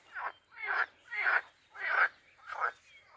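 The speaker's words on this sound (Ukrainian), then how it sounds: "Жабички кавкають, хоч бери жаби лови." Frogs croaking from a pond at a fishing spot, five evenly spaced rasping calls about half a second apart, moderately close and clear against a quiet background.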